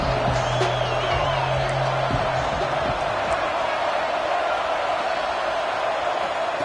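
A stadium crowd roars steadily on a third down in a Texas Tech Red Raiders college football video game, a dense, even wash of cheering with a commentator talking over it.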